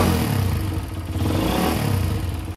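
A motorcycle engine with a freshly tuned carburetor idles steadily up close, a continuous low rumble with slight clatter that holds even throughout before cutting off at the end.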